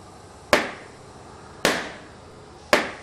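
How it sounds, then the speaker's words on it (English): Three sharp balloon pops, evenly spaced about a second apart, loud and close with quick decaying tails and no talking. "I hear balloons bursting."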